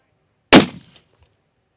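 A single sharp crack of a .300 Win Mag rifle fired at a long-range target outdoors, loud and abrupt with a short fading echo, then quiet.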